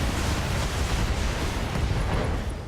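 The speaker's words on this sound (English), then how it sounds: "Oh, and we got some SRM explosions." SRM missile explosions in the BattleTech video game, a dense rumbling roar of blasts blending into one continuous heavy boom, loud and sustained for a few seconds before easing slightly.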